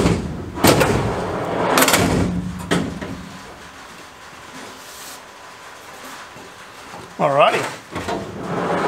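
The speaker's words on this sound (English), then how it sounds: "So now I'm going to chuck the drawer in just to make sure everything fits and operates like it should before I put the top on." An XTM 4WD storage drawer is slid in and out of its freshly installed frame, making heavy rumbling slides and solid thuds at close range, with someone talking briefly in between.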